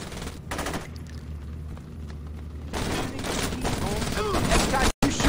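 Saints Row video game gunfire, rapid bursts of shots over in-game music and a busy mix, loudest toward the end before a brief cutout.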